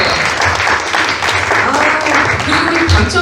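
Audience at a Ukraine peace prayer concert with cello and piano applauds steadily, a dense patter of clapping throughout with a voice speaking over it.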